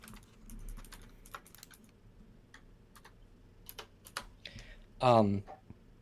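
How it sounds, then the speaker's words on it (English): Typing on a computer keyboard, with scattered close key clicks in quick irregular bursts and a short tonal blip near the end. "I'll type it out in the chat."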